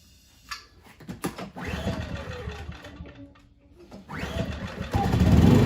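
A Powerhorse 2300i inverter generator is started with a button after fuel adjustment, sputtering and catching twice before settling into a rising, steady engine drone that grows louder toward the end, heard close without talk.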